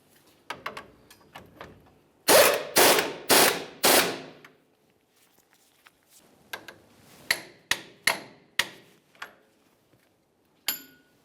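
A wrench snugs the nut on the lower strut bolt of a 2005-2010 Dodge Dakota front suspension, giving a burst of loud ratcheting clicks, then a pause, then another, fainter series of sharp clicks.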